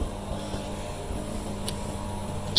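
An 18 kW RAY-18DS2-EVI heat pump outdoor unit at a private house runs at full power, giving a steady, fairly quiet low hum and whir with a faint brief click near the end.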